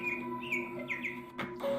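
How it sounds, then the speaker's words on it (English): Birds chirp and tweet close by in quick, bright calls, several overlapping phrases over a faint steady background hum, with no one talking. "You hear all the birds?"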